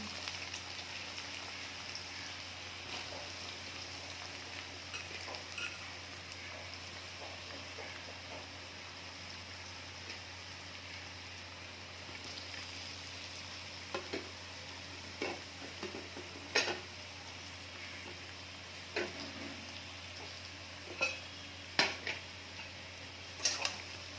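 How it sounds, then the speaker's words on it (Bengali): Garlic and onion fry in a pan for mutton kosha, giving a steady close sizzle with scattered crackles and pops growing sharper toward the end. No voices. "রসুনটা ভাজা হতে হতে খানিকটা ভাজা হয়ে গেছে, আমি পেঁয়াজটাও ছেড়ে দিলাম"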